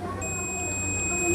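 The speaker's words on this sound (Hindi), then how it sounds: "ये बीप की आवाज़ आपको सुनाई दे रही होगी" A multimeter on continuity mode beeps as its probes touch the earthing and terminal of a Ford Fiesta fog lamp bulb, giving a steady, sustained high-pitched tone that holds through the clip under low background noise.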